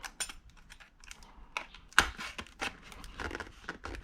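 Quiet, close-up scratching and snipping as a blade cuts through a cardboard box during an unboxing, irregular short crackles and ticks with one sharper snap.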